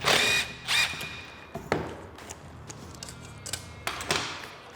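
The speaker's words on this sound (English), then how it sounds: "So when you remove the hose clamp" Metal pick tool working a hose clamp off a ProCharger supercharger coupler on a truck intake tube: a run of sharp close clicks, scrapes and metallic ticks in uneven bursts, loud and close, with no talking.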